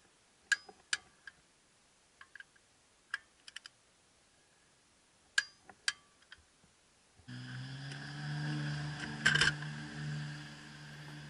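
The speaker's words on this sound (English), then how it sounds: "I'm tightening the other lug nuts to relieve the tension on the locking lug." A lug wrench clicks in sharp, irregular ticks as lug nuts on a car wheel are tightened, with the locking lug still in place. A louder, continuous mechanical rumble with a few bright clanks follows.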